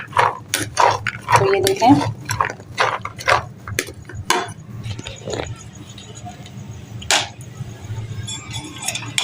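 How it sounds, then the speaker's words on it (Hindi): Chana chaat with crushed chilli and salt being stirred in a bowl, a spoon clinking and scraping in quick irregular bursts, then quieter, while someone talks over it. "और अब इसको आ गई है मिक्स करने की बारी"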